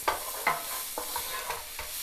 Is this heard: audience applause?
no